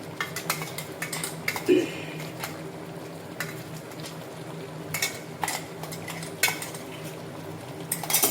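Stirring a blended tomato and onion paste into chicken curry in a pan: spoon scrapes and clinks against the metal with soft sizzling beneath, in irregular bursts of stirring at close range.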